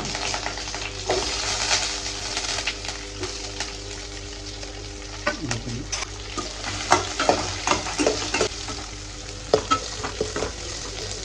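Chillies and curry leaves fry in oil in a pan, a close steady sizzle with frequent scraping stirs and clinks, and no talking over it.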